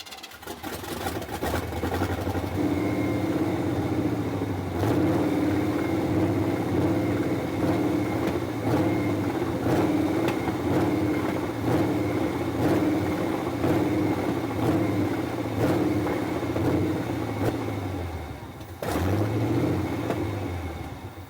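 A K10 engine runs with a steady rough low drone and rhythmic pulsing throughout, moderately loud and close, with a brief dip near the end as it stumbles and recovers.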